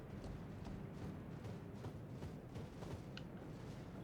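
Torrent, the spirit horse in Elden Ring, gallops with rapid rhythmic hoofbeats over a constant low rumble of in-game ambience, quiet and continuous with no voices.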